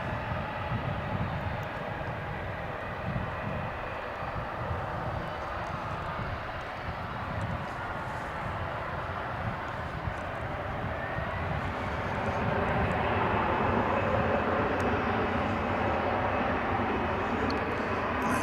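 Airplane engines at DFW International Airport produce a continuous broad roar that holds steady for the whole stretch, then swells slightly louder partway through, with no voices.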